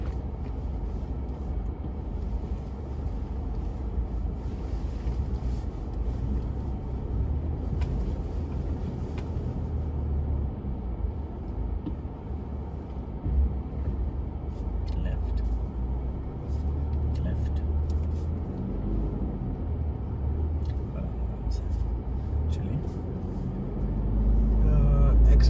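A Toyota Hilux crawling off-road over a rocky track, its engine a low steady rumble with occasional knocks and creaks from the rough ground, under faint background talk.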